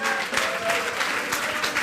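A church congregation at a Pentecost service applauds and cheers for Jesus, a dense, steady wash of clapping with some vocal acclaim from the crowd, loud and sustained throughout.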